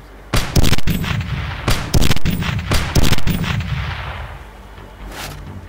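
Gunfire in the video game Teleglitch: loud, sharp shots fired in several quick bursts, with short pauses between them and no talking.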